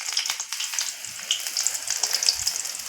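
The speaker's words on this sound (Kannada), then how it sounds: "ಸ್ವಲ್ಪ ಈರುಳ್ಳಿ ಹಾಕ್ತಿದ್ದೀನಿ. ಸ್ವಲ್ಪ ಸಿಡಿಯುತ್ತಲ್ವ ಹಂಗಾಗಿ ದೂರ ಹೋಗ್ತಿದ್ದೀನಿ" Onions dropped into hot oil after dry roasting, crackling and sputtering with a dense run of sharp pops and a steady sizzle close by, no talking over it.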